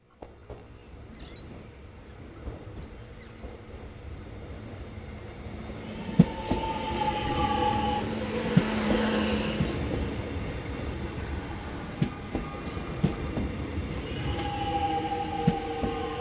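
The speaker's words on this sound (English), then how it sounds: "Our train back to the city turned out to be an Extrapolis 100" Extrapolis 100 electric train on Melbourne's Williamstown branch, a steady rolling rumble with rail clatter and brief squeals, growing louder mid-way and staying close and continuous to the end.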